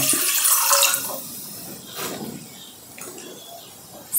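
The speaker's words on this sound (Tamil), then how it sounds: "அதில் 2 டம்ளர் அளவு தண்ணி சேர்த்துக்கோங்க." Water splashes and runs into a heavy pot for henna hair dye, a rushing pour at first that thins to a softer trickle, up close with some faint background noise.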